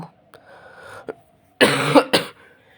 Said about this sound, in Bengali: একটু ঠান্ডা কাশি হচ্ছে